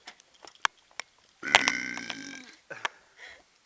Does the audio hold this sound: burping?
yes